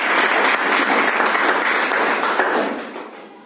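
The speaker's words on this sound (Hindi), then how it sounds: "एक बार जोरदार ताली" An audience at a business club meeting breaks into loud, dense applause, a steady wash of many hands clapping close by that holds strong, then fades over the last second.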